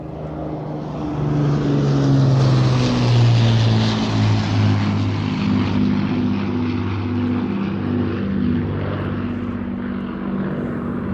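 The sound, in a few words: RAF Battle of Britain Memorial Flight propeller aircraft flying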